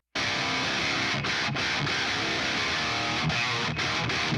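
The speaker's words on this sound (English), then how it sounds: "And then the Mesa with the Fortin blade sounds like this." High-gain metal guitar through a Mesa Boogie Triple Rectifier pushed by a Fortin Blade pedal, tight chugging riff with brief choked gaps, loud and up front, played alone without voices.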